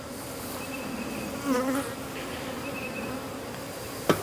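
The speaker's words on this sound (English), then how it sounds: "Hey little bees." Honey bees buzz steadily as they are moved into a new plastic hive after a few puffs of smoke, a close continuous hum with a brief louder swell midway and a soft knock near the end.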